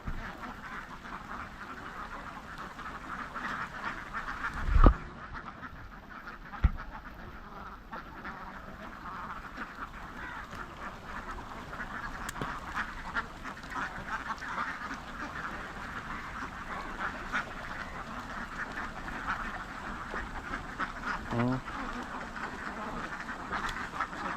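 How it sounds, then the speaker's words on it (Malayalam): A flock of ducks quacks continuously at moderate distance, a busy chatter of calls with a couple of sharp knocks early on. "താറാവ് എത്രണ്ണം ഉണ്ടോ നോക്കി"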